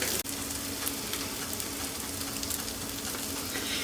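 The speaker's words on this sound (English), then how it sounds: "we'll let these brown up and flip them" Tater cakes frying and browning in a pan: a steady, dense oil sizzle and crackle, close and even throughout, with one brief dip near the start and no talking.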